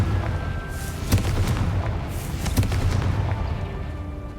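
The Confringo spell exploding in Hogwarts Legacy, booming blasts over a dense rumbling battle bed, with two sharper detonations standing out about a second and a half apart.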